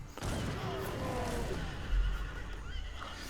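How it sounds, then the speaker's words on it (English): Horses whinny loudly amid the clash of a battle in the Age of Empires 3 Definitive Edition strategy game, with elephants trampling cavalry, a brief neigh rising over dense game noise and a thud. "Look at all these elephants just crushing the little horses."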